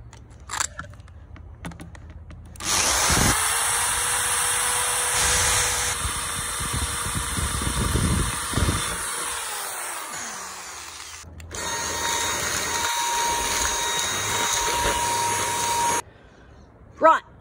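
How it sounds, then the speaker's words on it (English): A power drill with a large bit, roughly one centimeter, bores holes in a pot for an in-ground worm farm, two long loud whining runs with grinding as the bit bites, separated by a short pause. "I'm using my largest drill bit, which is going to drill about a centimeter big hole"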